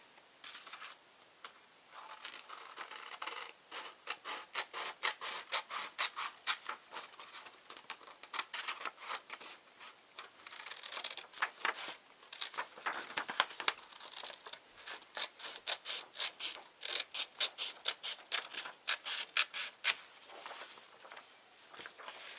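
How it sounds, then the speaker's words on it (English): Scissors snip a sheet of paper in half for a paper and pipe cleaner flower, giving a long run of crisp, close cuts and crinkling paper rustles in uneven bursts, with no talking. "Now you're going to cut that in half."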